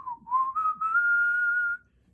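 A person whistles a high guitar solo melody, one clear sustained tone sliding gradually upward for under two seconds, close and fairly loud, imitating a pitch-shifted guitar line.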